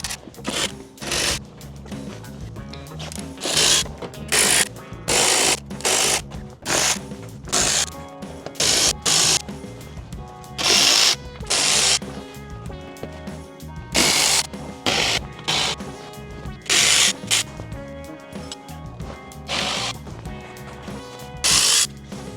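A powered ratchet or driver spins out 8mm under-tray bolts on a BMW E87 1 Series. It gives repeated loud, close bursts of high-pitched whirring, each lasting about a second, separated by short pauses.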